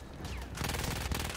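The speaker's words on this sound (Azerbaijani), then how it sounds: "Güllə atmağını eşitsiz onun." Rapid bursts of automatic gunfire in the video game Battlefield 1 erupt after a brief lull, continuing as a dense, loud rattle of shots to the end.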